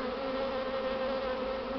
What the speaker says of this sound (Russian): Вон видно клубок пчел.